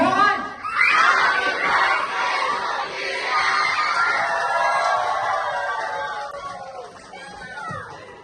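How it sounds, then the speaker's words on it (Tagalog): A crowd of children at a seventh birthday party cheer, shout and clap together on a countdown, a loud excited burst that swells at once and holds, with laughter and voices mixed in before it fades slightly toward the end. "Sabay palakpak, tsaka talon."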